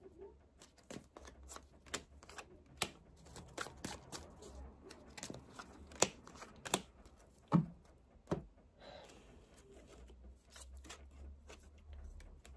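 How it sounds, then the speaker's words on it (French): Tarot cards are shuffled and laid out on a surface, producing a string of soft, irregular snaps and flicks with light sliding and rubbing, fairly quiet and close. "je vais rajouter d'autres cartes ici"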